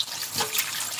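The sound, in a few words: rinsing hands under running water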